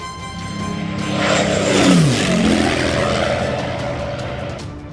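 A World War II P-51 Mustang fighter with its propeller engine roaring past, the drone rising to a peak and then dropping in pitch with a clear Doppler sweep as it passes close and fades away.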